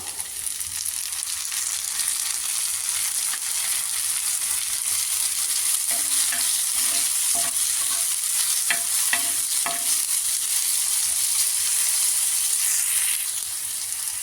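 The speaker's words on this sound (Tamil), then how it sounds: "வெங்காயம் போட்டு நல்லா வதக்கணும்." Onions sautéing in a hot pan give a loud, unbroken sizzle and hiss throughout, with a run of quick spatula scrapes and taps partway through.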